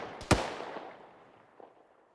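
A single sharp gunshot cracks nearby in Arma 3, its echo trailing off, followed by a fainter distant shot.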